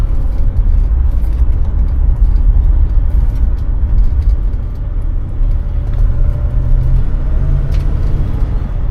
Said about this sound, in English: The motor is nice and quiet,